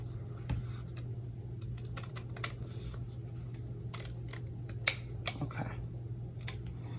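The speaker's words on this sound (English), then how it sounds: "So I'm trimming out just a 1/4 inch." Scissors snip along a fabric seam allowance, trimming a flat felled seam down to a quarter inch, with quiet irregular cuts and scratches at close range over a low steady hum.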